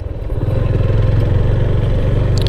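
A Yamaha FZ25 motorcycle rides through a tea garden, its engine a steady, close mid-pitched drone with a slight rhythmic pulse throughout, no talking.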